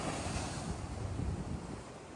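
Heavy surf rumbles continuously at Boa Viagem beach in Recife, a dense, close wash of waves under strong wind noise with no voices.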